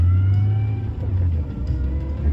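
From inside a 1993 Nissan Skyline comes a deep, steady exhaust drone with a low engine hum, loud and continuous for a couple of seconds, with no talking.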